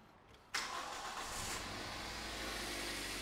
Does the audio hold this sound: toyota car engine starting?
yes